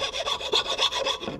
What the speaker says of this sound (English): Right now I'm just sanding